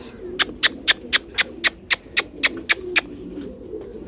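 Pigeons, including a golden pigeon, give a run of about eleven evenly spaced coos or calls, close and moderately loud, that thins out and stops near the end, with faint background noise and no talk.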